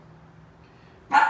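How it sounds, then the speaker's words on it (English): A dog at home gives a single sharp bark near the end, close and loud after a near-silent stretch, outdoors with Halloween decorations blowing in the wind. "What are you barking at?"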